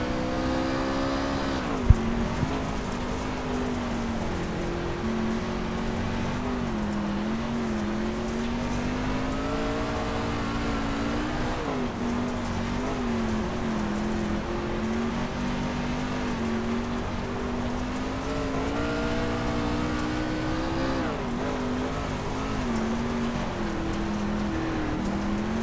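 Onboard a race truck lapping the Eldora dirt track at night, the engine drones loud and continuous, its pitch rising and falling through each corner and straight, with a brief sharp knock near the start.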